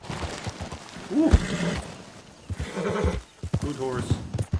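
In Red Dead Redemption 2, a horse whinnies loudly and hooves clip-clop along the ground while someone talks over them.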